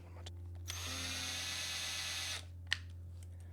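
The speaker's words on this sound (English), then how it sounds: "Oh, I'll just use my drill." A power drill bores small holes in a craft base, spinning up for one close, loud burst of about two seconds before stopping abruptly.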